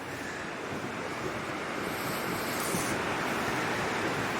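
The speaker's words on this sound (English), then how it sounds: "You can definitely hear that river today." The Teklanika River in Denali runs near flood stage, a loud, steady roar of rushing water with no letup and no voices.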